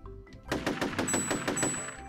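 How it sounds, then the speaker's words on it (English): Rapid machine-gun fire in the artillery game ShellShock Live, a dense burst of about a dozen evenly spaced loud shots over two seconds with a steady high tone ringing beneath. "all I can do is fire guns"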